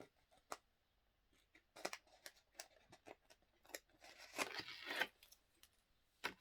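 Adhesive tape is peeled and torn in several short, crackling rips, close and fairly quiet, separated by brief pauses.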